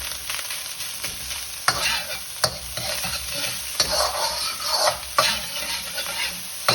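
A metal spatula scrapes and pushes vegetable Singapore fried rice around a metal wok over a constant close sizzle, with sharp clanks of metal on metal at irregular intervals.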